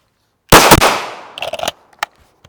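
Gunshots during practical shooting practice: one sharp, loud report rings out first, followed by a tight cluster of quicker shots and a couple of fainter isolated pops trailing off.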